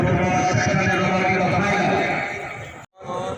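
A horse dances at an All Pakistan spear-throwing event in Pakistan, its steps and hooves mixed into loud continuous crowd noise and an announcer's commentary, which fades briefly near the end.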